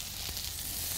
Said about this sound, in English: The sizzling happening around here, isn't it?